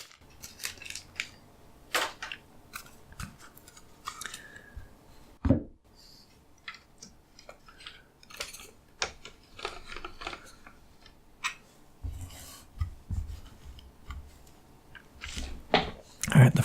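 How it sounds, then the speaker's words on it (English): A Magic: The Gathering Dimir guild kit deck being unwrapped and opened: crisp plastic crinkles, snips and card-stock snaps in irregular bursts, close and intimate, with soft talking between the handling sounds. "Let's open up the actual deck and see what sort of great treasures we've gotten here from all 3 Ravnica blocks."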